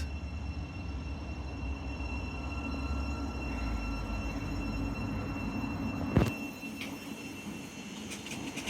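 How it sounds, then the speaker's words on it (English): Great Northern Class 717 electric multiple unit pulling out of Hatfield station on the East Coast Main Line, a steady low rumble and hum of wheels and motors throughout, with a sharp clank near the end. "departing now is going to be your Great Northern service from Welwyn Garden City to Moorgate from 717023"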